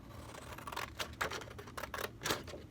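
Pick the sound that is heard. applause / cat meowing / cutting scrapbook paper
cutting scrapbook paper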